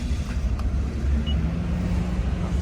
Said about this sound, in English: Actually, let me turn the car on.